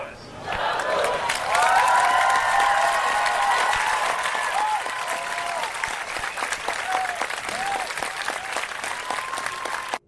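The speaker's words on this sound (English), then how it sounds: "people are applauding John Lewis" An assembly audience applauds Congressman John Lewis with sustained, dense clapping that swells early and stays steady and loud for several seconds, with some crowd noise and cheering mixed in.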